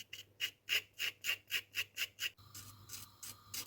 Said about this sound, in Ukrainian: Шкребти ножем чи шкребком кухонним.